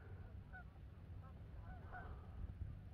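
Flock of geese honking as they take off from a lake, several faint scattered honks at a distance over a low steady wind rumble.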